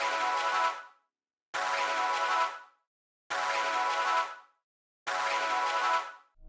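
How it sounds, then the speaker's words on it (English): A synth pad one-shot stabs four times at the start of each bar, each bright sustained chord cutting off abruptly and leaving a short silence before the next, evenly spaced and fairly quiet. "the next thing I added was this like pad 1 shot that just hits at the beginning of every bar"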